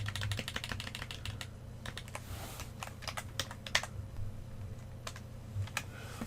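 Typing on a computer keyboard, a steady stream of light, close key clicks with irregular rhythm and a faint low hum underneath.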